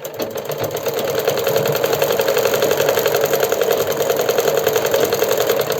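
A sewing machine stitches the waistband belt of a palazzo pant in a fast, even, close-up chatter. It runs continuously with no talk.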